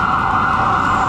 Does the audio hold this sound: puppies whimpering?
no